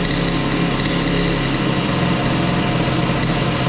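A CPI moped engine fitted with an Airsal 70 kit runs close and loud at a high, steady idle with a continuous buzzing drone and no drop in pitch, with no voices.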